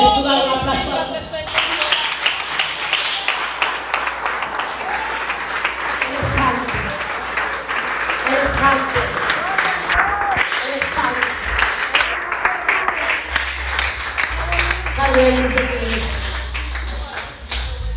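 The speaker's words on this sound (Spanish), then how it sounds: "Dale un aplauso a Dios." A church congregation applauds God during a worship service, steady clapping continuing for nearly twenty seconds with voices and music-like tones mixed throughout.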